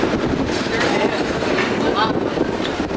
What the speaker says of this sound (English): the waves, I can hear them.